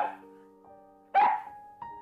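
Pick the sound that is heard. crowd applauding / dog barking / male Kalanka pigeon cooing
dog barking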